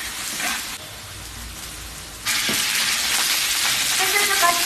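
Roast duck stir-fried with ginger, sand ginger and garlic in a hot wok, a close, bright sizzle that jumps louder partway through as more goes in, with scraping stir sounds and no talk.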